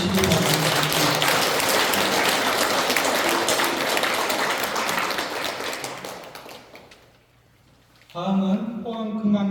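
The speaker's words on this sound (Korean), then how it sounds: "학장 스님께 부처님의 가르침대로 실천하겠다는 약속에 큰 박수를 보내시기 바랍니다" Audience applause at a Buddhist college graduation and entrance ceremony at Hwanghaesa temple in Pohang, loud and dense for about seven seconds, then fading out before a voice begins speaking.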